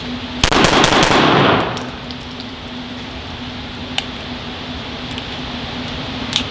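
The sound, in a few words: gunshots from a Full Conceal M3D folding Glock 19 pistol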